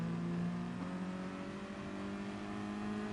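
Scirocco race car in GT Sport, its engine holding a steady, droning tone with sustained pitch lines that shift slightly as revs change, moderately quiet and continuous without breaks.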